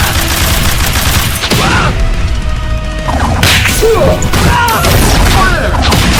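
Iron Man firing a wide repulsor blast in an animated superhero battle: loud rapid whip-like blasts and booming crashes in dense succession, with energetic sweeping effects throughout.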